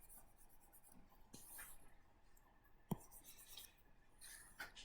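A large eraser rubs across a written board in quiet, scratchy strokes, with a few faint taps and scuffs at close range and no talking.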